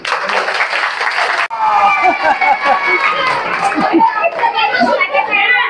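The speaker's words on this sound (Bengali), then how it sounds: "হাততালি।" A burst of clapping from a group of schoolchildren at a class party fills the first moments, then gives way to loud, lively chatter and children's voices.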